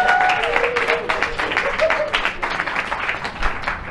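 Comedy show audience breaking into loud, dense applause after a joke, a continuous roar of clapping that slowly thins toward the end.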